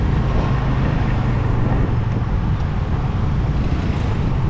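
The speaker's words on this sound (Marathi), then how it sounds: "बघा आता ही मोठी किती गाडी आहे बघा कोळसा घेऊन जातो" A large, heavily loaded coal truck passes on a road in Cambodia, giving a steady, dense rumble of engine and road noise that stays loud and close throughout, with no voices.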